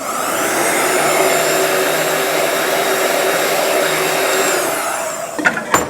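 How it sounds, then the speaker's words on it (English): A heat gun blows hot air steadily while plastic is formed, a loud, even rushing whoosh that holds for about five seconds, then cuts off, followed by a couple of faint knocks. "So anyway, I'm forming this in. Let me get a little more heat."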